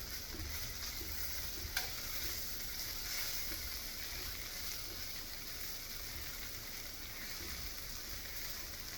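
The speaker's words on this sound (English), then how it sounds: "get other parts of the chickun that you're not seeing get a little fry on the pan." Seitan chickun fries in a pan with a steady, close sizzle and crackle that holds level throughout, broken by an occasional small pop, with no talking.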